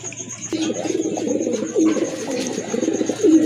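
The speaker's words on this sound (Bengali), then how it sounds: "এক জোড়া আফসান গ্রিজের কবুতর অনেক বড় সাইজের কবুতর" Several pigeons coo in low, soft, throaty rolls, repeating close by with some rustling in the background.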